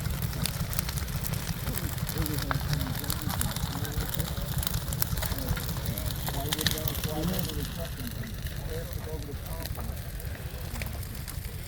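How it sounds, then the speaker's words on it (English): An outdoor bonfire burns on a cold 13°F winter morning at a flea market, a constant broadband crackling hiss close by, with birds chirping faintly in the background. "Well, I finally got the bonfire lit."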